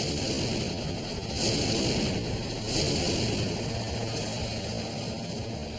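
Continuous broad roar of a fleet of Tokyo Fire Department firefighting helicopters overhead, loud and steady with slight swells, no talking.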